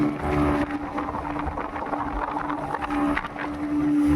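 A speedboat out on Maithon Dam, its steady engine drone and rush of water running on throughout with wind buffeting the microphone.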